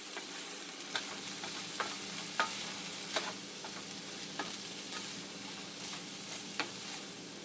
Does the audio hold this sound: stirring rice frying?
yes